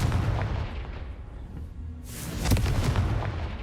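A Confringo fire spell blasts off in Hogwarts Legacy, a loud booming explosion with a crackling, rumbling burst that swells again near the end, with no voices.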